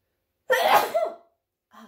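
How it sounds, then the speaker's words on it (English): A single sharp sneeze bursts out up close, followed by a short breathy tail, then a faint brief sound after a pause. "I also need to sneeze."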